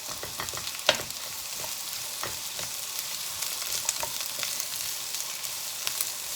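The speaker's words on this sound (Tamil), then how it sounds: "எண்ணெய் விட்டுட்டு நாங்கள் வெங்காயத்தை அதுக்குள்ளே ஆட் பண்ணுவோம்" Red onions frying in hot oil in a pan, a bright continuous sizzle with scattered crackles and light stirring clicks, close and steady with no voices.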